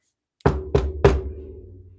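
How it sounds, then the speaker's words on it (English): Three sharp knocks on wood, evenly spaced and close, each with a short resonant ring that fades between strikes. "Got to do it 3 times. Knock on wood."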